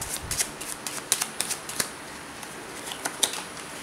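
Playing cards drawn one by one from a deck for a luck reading about roulette and dice, giving soft quiet snaps and shuffles in an irregular series, with no voices.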